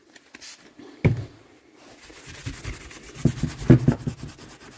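Hand-polishing a metal engine part from an MBK Ovetto Neos scooter during restoration, with irregular rubbing and scraping strokes, a sharp knock near the start and louder bursts of friction toward the end, close up.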